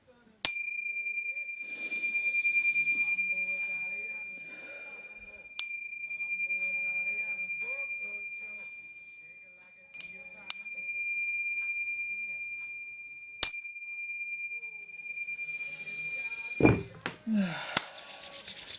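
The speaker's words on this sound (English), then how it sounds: "I'm going to clink these bells to help clear some energy out" A set of energy-clearing bells is struck four times, each a bright clear chime ringing out and slowly fading in a quiet room, followed by brief rustling at the end.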